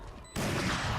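A weapon firing in the video game Valorant, likely the Shorty shotgun: after a brief quiet moment, a sudden loud, broad blast that carries a dense noisy tail to the end of the clip.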